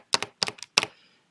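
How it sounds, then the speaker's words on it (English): Calculator keys are pressed in three quick bursts of two or three clicks each, sharp and close, with silence between the taps. "when we type that into our calculator"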